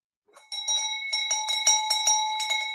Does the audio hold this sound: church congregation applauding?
no